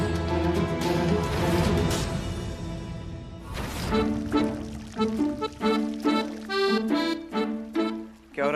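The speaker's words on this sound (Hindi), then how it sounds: "पौधों को पानी दे रही हूँ।" Water poured over household plants in a steady, full splash that thins into a lighter trickle and drips, with a tonal music bed running underneath throughout.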